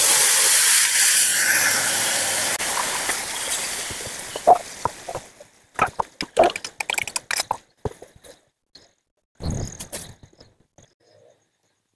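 Spices hit hot oil with a loud burst of steam and hiss that fades over several seconds, followed by scattered crackles, scrapes and stirring clicks as the mixture settles, close and without talk.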